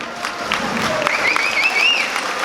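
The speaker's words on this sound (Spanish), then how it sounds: "le pedimos un fuerte aplauso para los novios en esta noche" Wedding guests at a celebration in Ameyaltepec applaud the newlyweds, a steady wash of clapping from a crowd that stays moderately loud throughout, with a thin whistle-like tone sliding through midway and faint voices mixed in.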